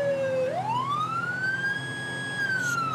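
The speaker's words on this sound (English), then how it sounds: "I'll get my sirens back on because we are going into a populated area now." A police car siren wails in GTA 5 during a patrol through a populated area, a loud, close electronic tone that drops then sweeps up and holds in a long steady rise and fall.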